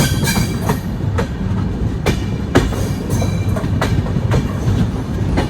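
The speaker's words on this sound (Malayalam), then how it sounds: "പയ്യ വണ്ടി പോകുന്നത്, വലിയ സ്പീഡൊന്നും ഇല്ല ഈ ഒരു ഭാഗത്ത്" Bagmati Express passenger train rolling slowly over rails in Bihar, a steady broadband rumble with repeated clickety-clack wheel knocks at irregular intervals, close and continuous throughout.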